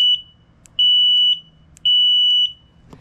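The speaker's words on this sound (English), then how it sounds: "That's that horn. It's annoying too." An Addmotor electric bike horn gives shrill, high electronic beeps: sustained tones in two repeated bursts separated by short gaps, close and loud over a faint low hum.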